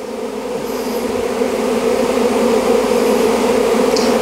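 Honeybee swarm flying around a small hive box in the open, a steady, dense buzzing hum that holds throughout at close range, with no voices.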